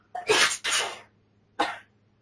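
Two sharp, breathy bursts in quick succession, then a third after a short pause, like sneezes or coughs close by.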